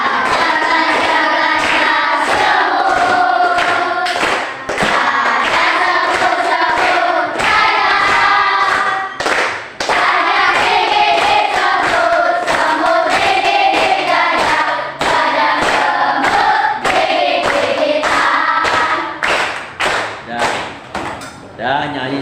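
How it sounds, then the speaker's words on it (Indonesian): A group of people clap hands in a steady rhythm while singing together, the sharp claps loud and close alongside the voices throughout. "Coba sambil tepuk tangan."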